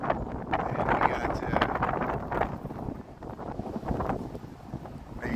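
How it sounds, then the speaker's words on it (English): Gusty wind buffets the microphone outdoors on a Chicago street by the Ogden Slip in November, in loud uneven surges that ease briefly midway and then pick up again. "But it's pretty windy."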